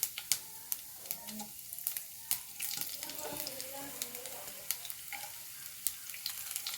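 Urad dal and dried chillies frying in a pan, a faint steady sizzle broken by many small crackles and pops, with occasional light stirring scrapes.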